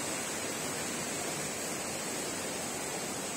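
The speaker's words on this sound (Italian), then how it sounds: "Questo è un altro bellissimo fiume che scende nel Pioverna." A fast-flowing mountain river rushes down toward the Pioverna, swollen from recent rain, making a loud, constant broadband roar of churning water close by with no voices.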